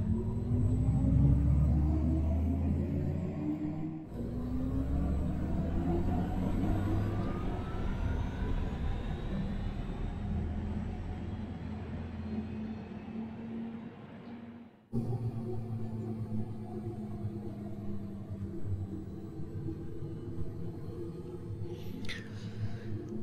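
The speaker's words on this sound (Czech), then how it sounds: "To, co hučí, tak to je ono," An Audi e-tron GT electric car gives off a synthetic humming drone that rises and falls in pitch as the throttle changes, a steady moderate tone with a short break partway through.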